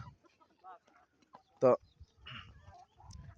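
Desi chickens clucking close by on a farm, with one loud squawking cluck standing out amid softer scattered calls and low murmuring voices.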